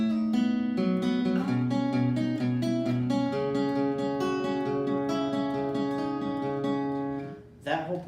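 Clean electric guitar plays the shortened second pre-chorus of a song, with steady strummed chords and picked notes ringing together, loud and alone, before the strumming breaks off near the end.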